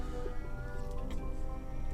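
A hellcat meows in RuneScape 3, a short, clear cat cry with a harmonic, wavering tone that lasts about two seconds, fairly close and alone.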